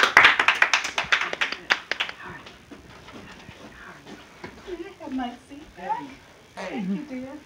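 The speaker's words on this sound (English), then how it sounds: "let's give Miss Betty Israelite another round of applause" An audience at a Black History costume celebration claps in a brisk burst of applause lasting about two seconds, which then dies away as a voice begins talking.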